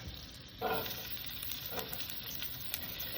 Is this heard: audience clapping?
no